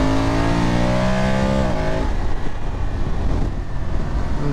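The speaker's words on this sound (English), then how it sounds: "you can give this bike full power and still not get in too much trouble" BMW F850GS Adventure motorcycle, a 2022 model, pulling hard at full throttle, its engine note rising through the revs and then shifting into a broad steady roar, loud and close with no talk.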